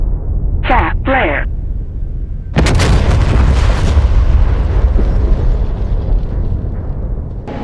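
Bombs dropped from an aircraft strike a target in the DCS flight simulator, a sudden loud blast erupting partway through and rolling into a long, dense rumble that slowly fades, after a brief voice and some tonal beeps.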